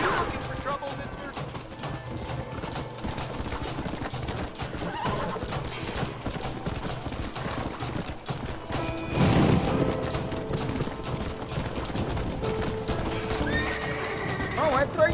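A horse whinnies repeatedly over clip-clopping hooves in Red Dead Redemption, with game dialogue and someone talking throughout, plus a brief louder crash-like burst partway through.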